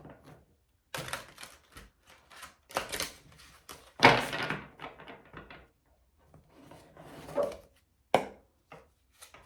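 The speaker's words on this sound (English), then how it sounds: "Okay, I'm feeling one more shuffle, Leo" Tarot cards are shuffled and tapped close by in irregular bursts of slaps and riffles, with short gaps of near silence between them.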